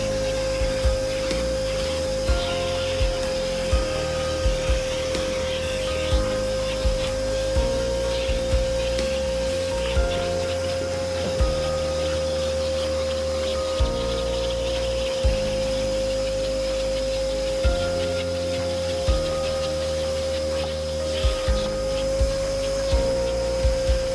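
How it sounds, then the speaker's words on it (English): A vacuum cleaner drones continuously with a steady whine while cleaning a car interior, punctuated by repeated knocks and bumps as the nozzle moves around. "while we were hoovering out the car"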